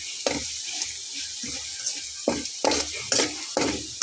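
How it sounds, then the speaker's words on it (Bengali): Cumin seeds fry in hot oil over a lowered flame, a soft sizzle broken by several sharp scraping and stirring bursts at irregular intervals, close by with no voices. "গরম তেলে জিরা পড়লে কিন্তু খুব বেশি সময় লাগে না ভাজা হতে"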